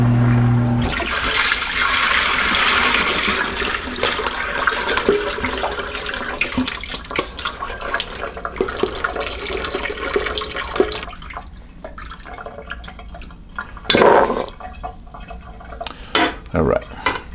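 Soaked dried chickpeas being drained in a kitchen, with a loud rush of pouring water that tapers into trickles, splashes and clinks of dishes and utensils.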